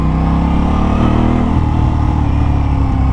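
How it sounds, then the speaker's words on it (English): Aprilia RS 660 sport motorcycle engine running loud and steady at close range, a sustained whining drone with dense low harmonics and no voices over it. "There's definitely like a loud whining come from the engine"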